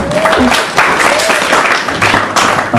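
A live comedy audience answers a photo-or-painting vote by applause, with steady clapping and cheering filling the room throughout, a few voices rising over the crowd noise.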